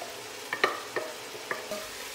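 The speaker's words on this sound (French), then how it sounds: "on peut mettre les légumes et on va faire un peu suer" Vegetables sweat and fry in a pan after the wine has cooked off, a quiet close sizzle punctuated by several brief clicks and scrapes of stirring.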